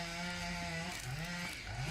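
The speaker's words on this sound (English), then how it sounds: "sorry about the chainsaw" A chainsaw drones in the background with a wavering, buzzing engine tone whose pitch rises and falls as it revs, fairly faint and continuous.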